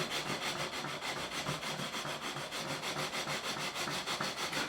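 A leveling file or sanding block rubs back and forth over the frets of a Korean-made Squier Stratocaster neck, a rapid, even rasping rhythm of short strokes, close and steady without pause.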